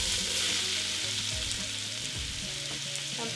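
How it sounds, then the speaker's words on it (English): Onion, celery and carrots sizzling steadily as they sauté in a pot for beef stew, a dense continuous frying hiss with faint stirring underneath, close and without talk. "We're gonna saute them a little bit until they soften."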